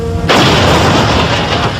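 An atomic bomb explosion and its shock wave: a sudden loud blast bursting in after a brief quiet moment, then a dense, roaring wall of noise that holds steady to the end.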